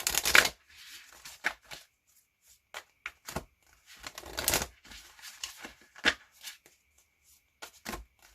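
Tarot-style love cards being shuffled for a pick-a-pile reading, heard as quick papery riffles and taps in irregular short bursts, close and fairly soft, with no talking.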